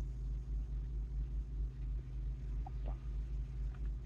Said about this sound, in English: So yeah, in the car, driving around